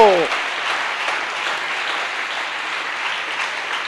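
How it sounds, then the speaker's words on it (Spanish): A church congregation breaks into loud, steady applause that follows a brief voice at the start and holds evenly for several seconds. "Le dan un aplauso a Jesús de Nazaret."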